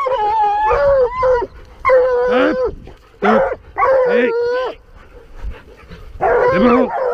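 Several hunting dogs bark and howl in bursts close by, with yelping, whining tones between pauses; a person's voice is heard briefly among them.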